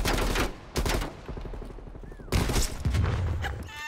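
Rapid gunfire from the video game Call of Duty: a dense burst of shots, then a short break and another loud volley, close and sharp.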